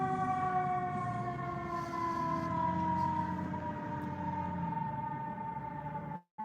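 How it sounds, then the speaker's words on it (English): A fire truck siren wails loud and close, its long sustained tone sliding slowly downward as the truck goes by, over a low engine rumble before cutting off abruptly. "Fire truck."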